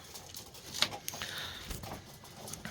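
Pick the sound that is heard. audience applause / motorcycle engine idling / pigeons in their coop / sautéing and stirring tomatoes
pigeons in their coop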